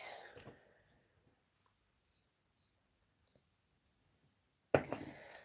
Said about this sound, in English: A couple of shuffles.